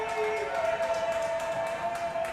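A high school football crowd of Tigers and Hornets fans roars in the stands on a third down, a steady, dense wash of voices and cheering with some clapping, heard from a distance.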